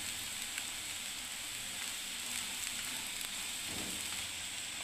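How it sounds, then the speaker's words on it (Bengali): Red lentil fritters (bora) frying in hot oil, a soft, continuous crackling sizzle at low volume with occasional pops and no voices. "এবার আমি একটু লাল লাল করে একটু ভেজে আমি বড়াগুলোকে নামিয়ে দেবো"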